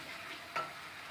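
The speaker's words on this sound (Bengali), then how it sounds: "এবার মশলাটা কিছু কষিয়ে নেব।" Spice paste of ground cumin, black pepper, ginger and coriander fries in hot oil in a wok over tempered panch phoron, a steady close sizzle with one brief stirring scrape in the middle.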